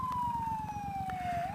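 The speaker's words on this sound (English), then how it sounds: "Lots of sirens. I hear another one coming right there." An emergency vehicle siren wails with a slowly falling pitch, heard from a motorcycle riding through traffic at sunset, with engine rumble underneath.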